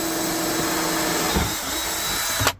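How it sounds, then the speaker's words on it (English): A drill with a hole saw cuts through a boat hull for a through-hull fitting, giving a loud continuous whirring grind that ends abruptly with a final jolt. "we selected the hole saw to make sure the Thruhull would fit in freely"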